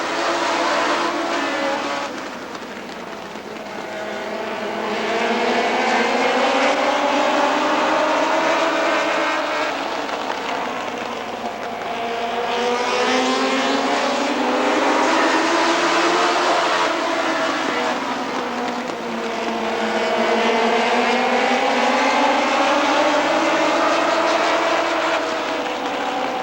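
Stock cars roar together at Rockford Speedway as the field takes the green flag out of turn 4, a loud sustained engine drone rising and falling in waves as the pack passes, heard from a distance.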